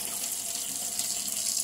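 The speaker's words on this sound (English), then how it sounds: "I'm going to fill up with hot water." Hot water runs from a tap into a hummingbird feeder, a steady close hiss of pouring water with an even, unbroken flow and no talk.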